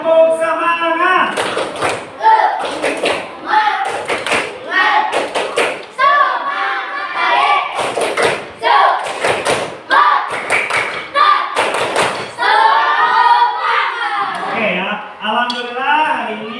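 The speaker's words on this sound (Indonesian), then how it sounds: "Tepuk semangat" Students in a classroom perform a rhythmic spirit clap, with sharp claps in quick grouped patterns repeated over and over while voices chant or call out along with the beat.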